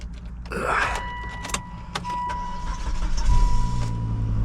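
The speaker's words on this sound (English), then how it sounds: "let's fire up this XC70" A 2005 Volvo XC70 2.5T AWD engine cranks and starts, settling into a low idle, with some clicks and a faint electronic chime beforehand.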